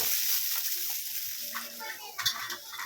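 Onion and curry leaves being stirred in a pan, a soft sizzle under a few scraping spoon strokes and a light clink near the end, with no talking.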